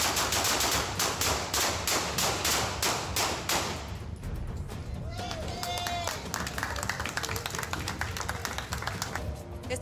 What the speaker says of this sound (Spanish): en la que no faltaron los disparos